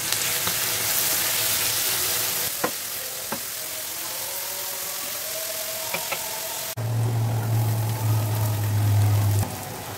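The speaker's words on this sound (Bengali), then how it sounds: "এখন পেঁয়াজ বাটা দিয়ে একটু ভালো করে পেঁয়াজ বাটা ভাজি করে নিতে হবে।" Onion paste frying in a pan, a steady close sizzle with a few sharp clicks of a utensil. Near the end the sound changes to a louder, denser sizzle, and no one speaks.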